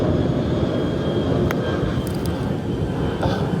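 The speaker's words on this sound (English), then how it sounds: "Child, there's a plane above me." Loud, steady broadband roar of an airplane flying overhead outdoors, a continuous rumbling drone with a few faint clicks, no talking.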